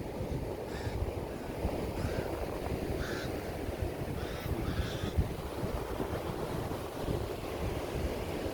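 Steady wind buffeting the microphone along a beach, with surf rumbling underneath and occasional crow-like caws from birds nearby, continuous and fairly loud throughout.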